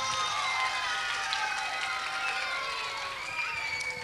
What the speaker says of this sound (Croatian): Ajmo jedan veliki aplauz za Petana.